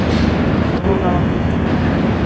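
A very long freight train rumbles steadily through the spiral tunnel in Yoho National Park, British Columbia, a loud continuous low roar of wagons rolling past, with a voice talking over it.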